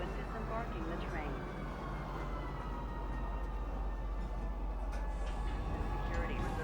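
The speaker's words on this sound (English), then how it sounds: "The Lorville train ride to the spaceport is quite long" Riding the Lorville train to the spaceport in the Star Citizen video game produces a continuous rolling rail rumble with a steady hiss. It is moderately loud and unbroken, and a faint voice murmurs in the background.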